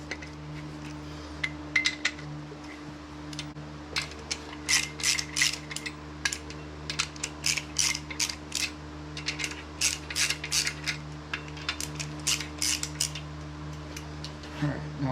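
A socket ratchet cranks loose the main cap bolts on an LM7 5.3 LS V8 engine block. Rapid bursts of close, sharp metallic clicking repeat in short runs over a low steady hum, with no voices.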